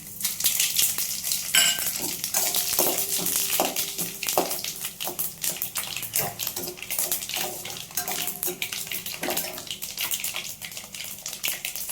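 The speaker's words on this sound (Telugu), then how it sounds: "తిరగమాతలోకి ఆవాలు, జీలకర్ర, 3 ఎండుమిర్చి వేసుకుంటున్నాం." Mustard seeds, cumin and three dried red chillies sizzling in hot oil for a Nellore-style pappu pulusu tempering: a steady, bright crackle with many tiny pops and spits that runs throughout.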